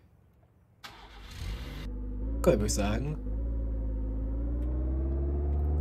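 Car engine cranking and starting in the video game Contraband Police, then settling into a steady mid-pitched idle hum that rises slightly as it pulls away, with a voice speaking briefly over it.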